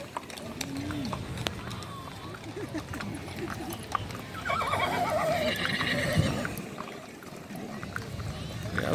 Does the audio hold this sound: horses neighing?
yes